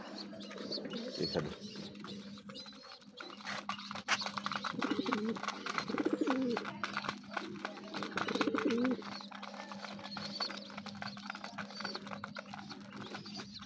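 Pigeons kept indoors coo softly in low, repeated throaty calls under steady background noise, with one brief spoken word.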